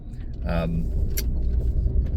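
Truck rolling into a rural home-building property along a driveway, a steady low engine and road rumble running throughout with a brief voice and light rattles near the start.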